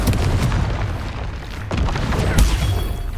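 Confringo fire-blast spell cast in Hogwarts Legacy, a deep booming explosion with a renewed rumbling blast near the end, loud and close amid dense game combat noise.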